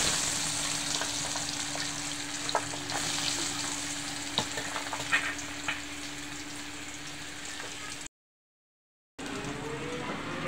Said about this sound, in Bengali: এখন আমি বিচিগুলি ভালো করে ভেজে দেবো।